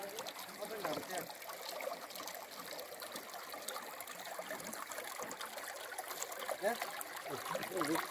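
Water in the rocky Nhiệm mountain stream at Sủng Trái, Đồng Văn, Hà Giang trickles and gurgles continuously, steady and close, with a voice talking over it.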